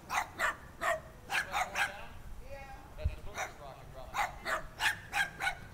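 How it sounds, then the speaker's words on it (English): Dogs barking outdoors during a space shuttle launch, sharp repeated barks in rhythmic bursts, fairly loud and near, with a brief pause midway and a low thump, people talking over them. "Yeah, the dogs are barking."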